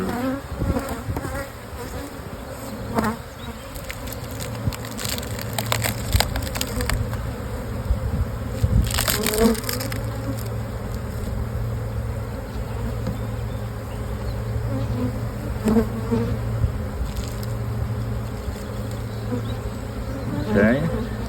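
Honey bees buzz densely and continuously around an open double nuc hive whose frames of foundation are being drawn out, a close, swarming drone that runs throughout, with occasional wooden knocks and brief talking.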